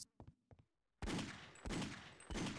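Gunfire in the Half-Life shooter game: a few faint early pops, then three loud, sharp blasts spaced about half a second apart, each with a ringing tail.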